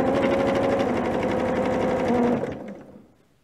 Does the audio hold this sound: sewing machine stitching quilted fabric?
yes